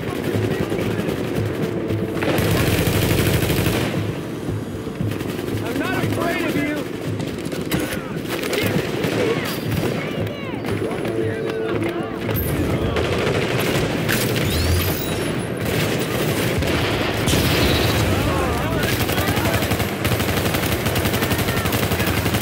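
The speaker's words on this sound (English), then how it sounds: "They're shooting everyone in sight!" Heavy gunfire rattles through a fight at the Lincoln Tunnel checkpoint in The Division, on heroic difficulty, with dense automatic bursts and booming shots going almost nonstop, close and loud, while voices shout over the din.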